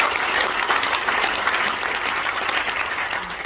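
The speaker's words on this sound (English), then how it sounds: "round of applause." Audience applause fills a golf writers' association dinner, a steady dense clapping from a crowd that holds evenly throughout without pause.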